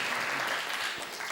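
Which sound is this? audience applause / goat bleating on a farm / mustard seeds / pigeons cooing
audience applause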